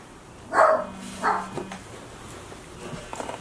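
A dog barks twice in quick succession, moderately loud and a little distant, followed by quieter background rustling.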